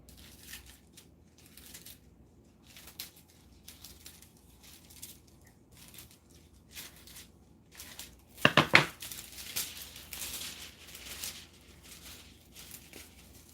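Scissors cutting a sheet of reactive foil laid over printed labels, a brief burst of crisp snipping and crinkling near the middle amid quiet rustling and handling sounds.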